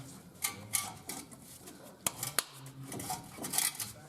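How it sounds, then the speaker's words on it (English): A mallet lightly taps an F250 front brake rotor onto its hub. Two sharp, close metallic knocks stand out over a quiet background, with a few lighter clicks and clinks of handling around them. "If you have to, tap it lightly with a mallet"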